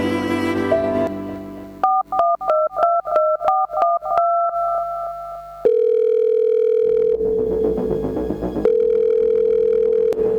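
A phone handset plays a quick series of keypad dialing beeps, then a steady continuous dial tone follows, loud and close with no talking.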